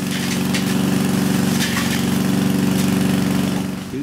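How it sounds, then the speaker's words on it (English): Motor and blower of a homemade leaf sucking machine mounted on a trailer tongue, running as a loud, steady mid-pitched engine drone with a constant hum close by for the whole stretch, easing slightly at the end. "the motor and the blower on the trailer tongue"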